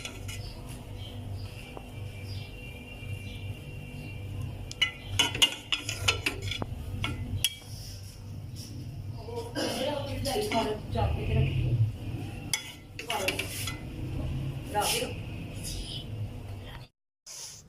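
Cooked whole masoor lentil and cumin rice is served out of a pot with metal utensils, sounding as intermittent scraping and clinking of spoon on pan. A person talks quietly in between.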